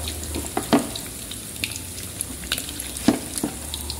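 Wonton dumplings (pangsit goreng) crackle and sizzle in hot oil, with a steady frying hiss broken by scattered sharper pops and a few louder spatters, close up with no talking.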